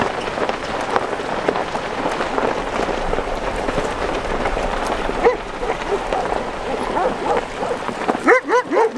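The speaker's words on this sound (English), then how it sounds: "Hey, puppies." Puppies bark and yip at a campsite over a steady, rain-like background hiss, with a few louder, closer yelps near the end.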